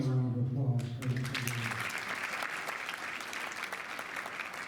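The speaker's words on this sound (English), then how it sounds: "One more round of applause for you." Warm applause from a meeting audience at a heritage center's annual gathering honoring its executive director, starting after a brief spoken phrase and continuing as a steady, fairly close wash of clapping to the end.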